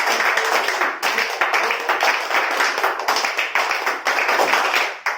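Clapping from a class fills the whole stretch, a dense, continuous patter of many hands at close range with no voices over it, rather than three separate claps.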